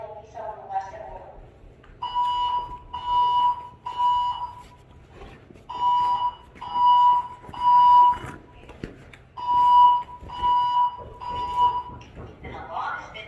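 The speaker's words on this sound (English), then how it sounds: "An alarm has been reported." A building fire alarm sounds repeated electronic beeping tones in steady bursts, with a recorded evacuation announcement voice playing between and over the tones.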